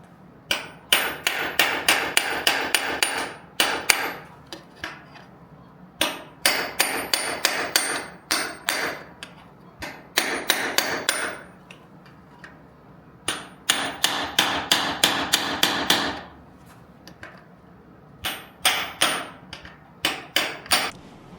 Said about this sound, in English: You just kind of hit it with a hammer, work its way around, and it will come right out.